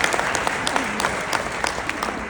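A live audience claps steadily for a couple of seconds during a CEO's keynote at a corporate incentive trip event in Cabo. The dense applause is close and fills the room, with no voice heard above it.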